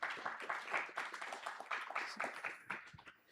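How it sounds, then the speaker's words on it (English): Seminar audience applauding panelists at a hotel event on AI and law, a dense burst of hand claps that swells and then tapers off over a few seconds. "Let's have a round of applause for our panelists."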